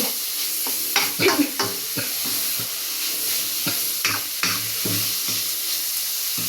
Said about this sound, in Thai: ใส่ผัดกะเพราลงไปเลย เอาไฟแรง